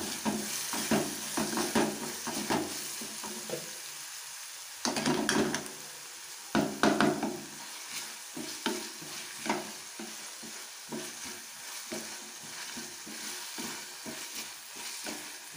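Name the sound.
tomato cooking in pan for egg bhurji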